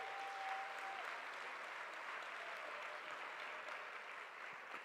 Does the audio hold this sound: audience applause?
yes